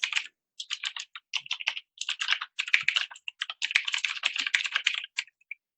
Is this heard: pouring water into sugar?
no